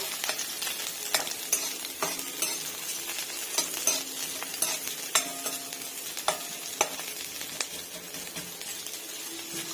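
Grated coconut roasting in a pan for a traditional Maharashtrian katachi aamti, stirred steadily. A continuous close sizzle runs under repeated scraping strokes of the spoon against the pan, with no talking.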